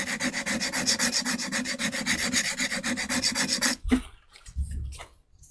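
A bull nose chisel rubbed back and forth on a medium sharpening stone, a loud, even run of close rasping strokes in a fast regular rhythm that stops abruptly, followed by a few quieter handling sounds.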